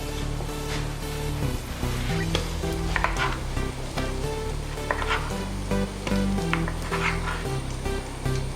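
Grated coconut fries with turmeric powder in a pan for beef kaya peralan, giving a steady close sizzle with stirring scrapes throughout and no talk.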